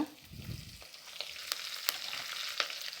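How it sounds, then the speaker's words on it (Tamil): Mustard seeds, fenugreek, cumin, garlic and curry leaves fry in hot oil for a karamani kara kuzhambu, giving a close, steady sizzle with scattered sharp crackles and pops, after a brief stirring scrape at the start. "இது எல்லாமே அப்படியே பொரியட்டும் கடுகு வெந்தயம் ஜீரகம் பூண்டு கருவேப்பிலை"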